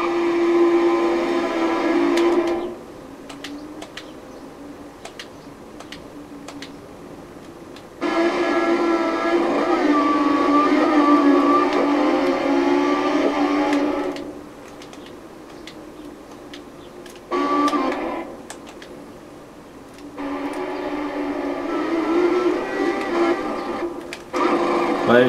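A long train passes close by, its loud rolling rumble and rhythmic wheel clatter swelling and dropping in long stretches, with steady rail noise and a sustained tonal hum throughout.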